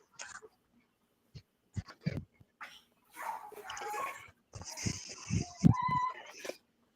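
A dog gives a few short barks and whimpers amid scattered bumps and rustling, close by, with quiet pauses between.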